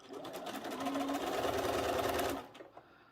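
A sewing machine stitches a quarter-inch quilt seam on a trihexa block, its rapid even whirr running loud and close for about two seconds before it winds down and stops.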